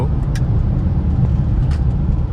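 A Range Rover Velar drives at speed at night, heard from inside the cabin as a steady, loud low engine and road drone, with a couple of faint high clicks.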